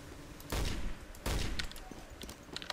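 Rifle fire in the World War II shooter Day of Defeat, a heavy rifle in single-shot mode: two loud, sharp reports about a second apart, followed by fainter scattered shots.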